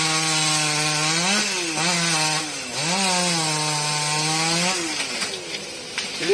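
A chainsaw cuts through a thick branch of a huge banyan tree high up in its crown, the engine loud and close, droning steadily with pitch dips as it bogs into the wood and revs again.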